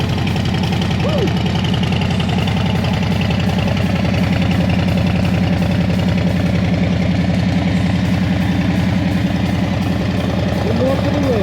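A 2020 Harley-Davidson Lowrider S with Stage 1 parts idles close and loud, its deep, lumpy V-twin throb rolling steadily for the whole stretch, with a couple of brief vocal sounds over it.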